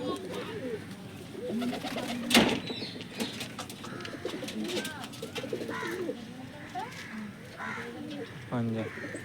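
Pigeons in a home loft give soft, repeated coos near at hand, with occasional wing flutters, while someone talks over them.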